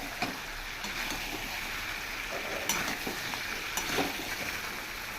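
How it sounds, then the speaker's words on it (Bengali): Mutton and potatoes sauté in a pan with a continuous close sizzle, punctuated by a few sharper stirring scrapes and clicks, no voices. "আর একটু আলুটাও কষিয়ে নেব।"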